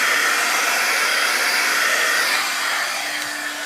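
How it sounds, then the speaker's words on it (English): A heat tool blows hot air steadily and loudly while finishing a black-on-black shine, a continuous broadband rush that holds throughout and eases slightly near the end. "turn that heat tool off"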